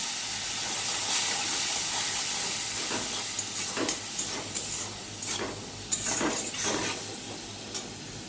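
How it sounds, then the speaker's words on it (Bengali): Potatoes and eggplant fry in a pan with cumin powder, red chilli powder and a splash of water, giving a steady, loud hiss and sizzle throughout with brief crackling bursts. "এখানে ভালো করে আমি কষিয়ে নিচ্ছি আলু বেগুনগুলো দিয়ে।"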